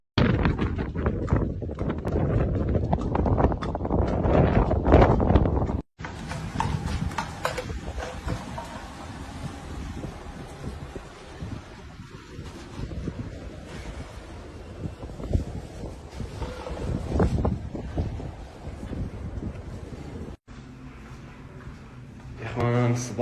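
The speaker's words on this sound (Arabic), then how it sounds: "الغبار قوي، رياح قوية" Strong wind roars during a red dust storm in Arar, Saudi Arabia, a loud, gusting, rumbling rush buffeting the microphone, with someone speaking at intervals over it.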